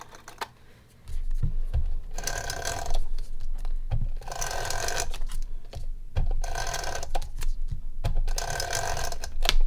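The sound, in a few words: tape runner applying adhesive to card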